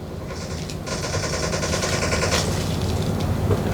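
Rapid automatic weapon fire in the PUBG mobile game, a dense, continuous burst of gunshots that holds steady for several seconds, loud and close, with no talking over it.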